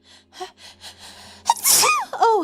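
A loud, sharp sneeze bursts out after a stretch of quiet speech, followed by a breathy exclamation; a voice talks softly before it.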